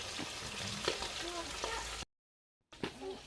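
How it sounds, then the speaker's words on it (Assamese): Fish frying in a pan in a home kitchen gives a steady, soft sizzle under close conversational talk, broken by a short silent gap before the talk and sizzle return. "এতিয়া মাছখিনি ভাজি আছে।"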